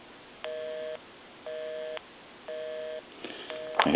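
A telephone busy signal: three evenly spaced half-second tones with equal gaps, followed by a fourth tone amid faint line clicks and noise.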